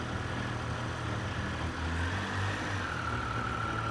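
Triumph Speed Triple 1200 RS motorcycle engine holding a steady low idle-like rumble as the clutch is let out, a faint rising tone building toward the end, close and continuous with no talking.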